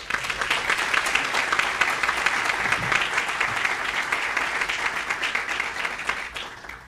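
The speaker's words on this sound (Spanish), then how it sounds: "Le solicito un fuerte aplauso para el magistrado Felipe de la Mata Pizaña." Steady audience applause at a legal conference in honor of magistrate Felipe de la Mata Pizaña, dense clapping filling the room evenly for about seven seconds before easing off at the end.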